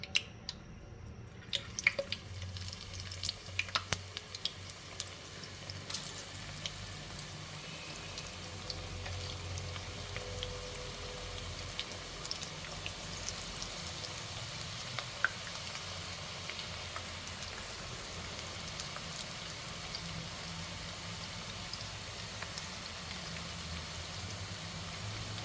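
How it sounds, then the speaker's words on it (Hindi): Potato and sweet potato pakora batter frying in hot oil, a steady, continuous crackle and sizzle with fine popping running throughout, close and fairly quiet with no voices. "हमारा ऑयल जो है वो गर्म हो गया। अब मैं ये सारा मटेरियल इसमें डालूँगी"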